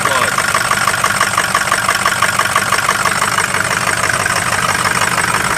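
A car engine idles roughly on a cold start, misfiring on cylinders one, three and five from a failing injector, a steady uneven chugging heard up close throughout.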